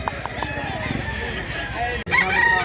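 Faint crowing from a rooster at a Mantalungon, Cebu fowl market rises through a busy wash of crowd noise, with a clearer high call near the end after a brief sharp knock.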